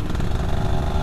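A Yamaha F1ZR two-stroke motorcycle fitted with a bored-out stock exhaust runs steadily and loudly up close, its dense, buzzy engine note holding without a clear rev change.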